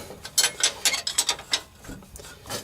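Ratchet wrench tightening the starter nut on a Volkswagen transaxle, a quick series of sharp clicking pawl strokes close up, rhythmic and uneven, with no talking.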